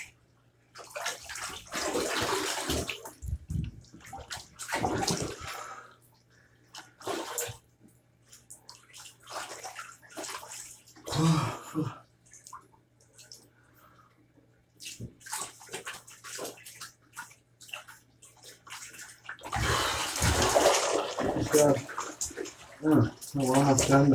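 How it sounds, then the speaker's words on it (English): Water runs and splashes for rinsing, surging loud and then easing in uneven bursts, with a voice heard faintly at times under the flow. "We're almost done the first rinsing."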